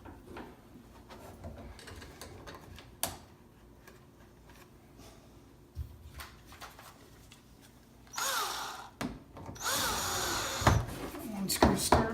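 A power drill drives a screw into a door hinge on a blank door, giving two close, loud whirring bursts near the end, after a stretch of quiet handling noises.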